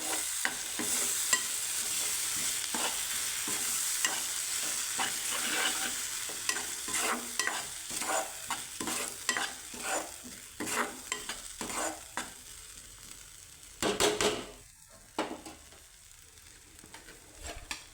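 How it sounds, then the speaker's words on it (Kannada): A spoon stirs ground masala into a capsicum and potato curry in a pan, making steady scraping strokes over a soft sizzle. The rhythm grows choppier and more broken toward the end, and no one speaks. "ರುಬ್ಬಿಟ್ಕೊಂಡಿರುವಂಥ ಮಸಾಲೆನ ಹಾಕ್ಕೊಳ್ತಾ ಇದ್ದೀನಿ ಹಾಕ್ಕೊಂಡು ಚೆನ್ನಾಗಿ ಒಂದು ಸರಿ ಮಿಕ್ಸ್ ಮಾಡ್ಕೋಬೇಕು"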